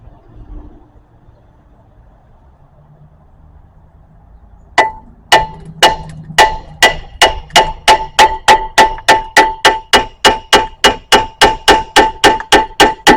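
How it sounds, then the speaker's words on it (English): Sharp metallic clangs ring out as a hammer strikes a stuck front brake rotor on a 2016 Mazda CX-5, first a few spaced blows and then a rapid, regular series of close, loud hits after a quiet start. "I gotta spin this on the rotor a little bit so I can hit on this side now."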